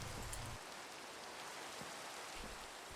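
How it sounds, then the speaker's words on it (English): Rain falls in the Minecraft video game as a steady, soft hiss of broadband patter, with a low rumble at the start and faint again near the end. "Is it raining? Yes, it is."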